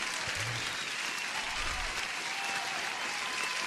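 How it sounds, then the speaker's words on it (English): A canned applause sound effect played over a livestream, steady dense clapping at moderate level for a few seconds. "I need to give you an applause"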